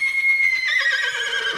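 A horse gives a loud, close whinny lasting over a second, a high sustained call that wavers and falls in pitch, heard alone.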